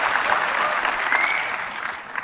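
An audience at a SXSW 2023 conversation event claps in dense, sustained applause at steady loudness through the whole stretch, with a faint voice briefly audible under it.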